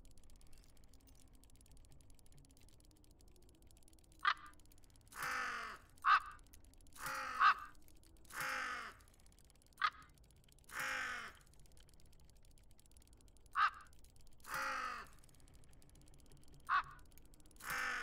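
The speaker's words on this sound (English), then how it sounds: "All right, well, my crow is crowing." Crow in the puzzle game Tick Tock: A Tale for Two, cawing repeatedly in harsh, separate calls spaced a second or two apart, fairly close and alone over a quiet hum.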